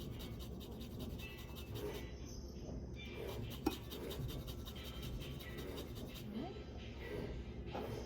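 Key lime being zested on a grater, only the green peel taken, a steady soft rasping and scraping that runs close and continuous with faint room hum beneath.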